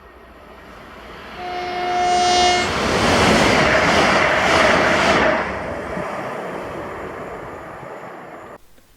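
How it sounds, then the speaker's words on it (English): A ScotRail class 385 electric train runs in at Carluke, opening with a sustained two-tone horn, then a loud rushing pass of wheels and motors that slowly fades, with no talk. "the 1033 ScotRail service to Glasgow Central from Lanark with 385021 running into service"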